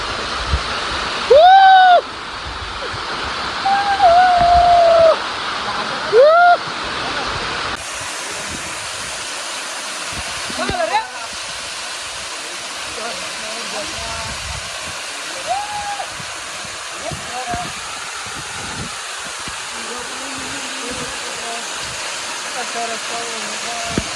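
A waterfall near Tansa dam roars as a steady broad rush throughout, loud and close, with people talking and calling out over it.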